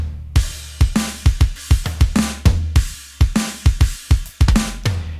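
Dry, unprocessed sampled drum kit in Ableton Live with no reverb: punchy kick and snare hits in a steady groove, each hit cutting off sharply with no room tail, alone and up front.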